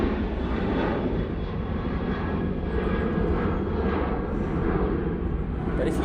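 A departing airliner at Manchester Airport bound for Brussels, in snowy weather, gives a loud, continuous engine roar and rumble. The sound holds steady and close for several seconds without pause.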